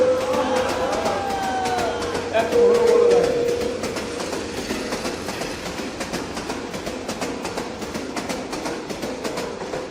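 A train rolls past during an outdoor Islamic sermon, its whistle sounding loudly at first, then giving way to a steady rumble and rhythmic clatter of wheels that fades slightly as it continues.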